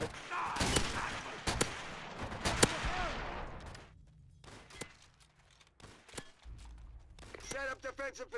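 Gunfire and artillery in the World at War video game: rapid sharp shots and heavy blasts in bursts, easing into scattered reports, with voices talking over the battle.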